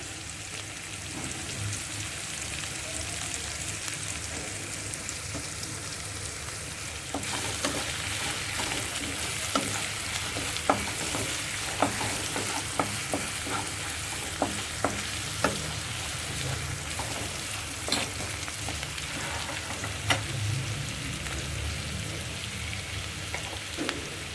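Mushrooms fry and caramelize with a little salt in a pan, giving a steady broadband sizzle with a louder hiss after several seconds and scattered sharp ticks of stirring, with no talking.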